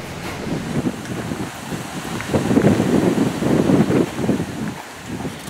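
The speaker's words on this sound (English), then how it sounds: "I'm going to have to shout because it's proper windy" Strong wind on a steep hill at Llynnon Mill, a windmill in Wales, buffets the microphone in continuous loud gusts, a rough roaring rumble that swells and eases without pause.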